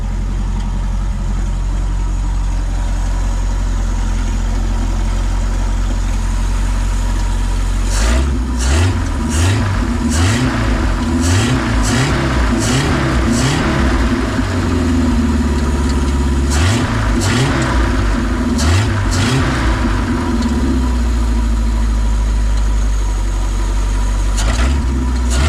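A 1948 Pontiac Streamliner Deluxe engine idles quietly at first, then cranks and catches, running with a throaty, uneven rumble and a few blips of revving, close by.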